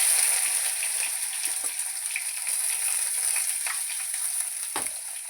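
Chopped shallots sizzle and fry in a pan while being stirred for a Kerala fish curry, a steady bright crackling hiss with occasional scrapes of the spoon against the pan.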